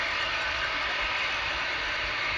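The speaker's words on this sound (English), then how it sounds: "the safety valves are just blowing off, so we've got good fire, plenty of steam, plenty of pressure." Safety valves on a steam locomotive blow off, a continuous loud rushing hiss of escaping steam that stays constant and unbroken from start to finish.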